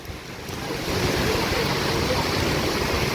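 Floodwater in Bocaue, Bulacan surges in a broad, steady roar, swelling louder after the first moment and staying loud and continuous as it carries large stones along.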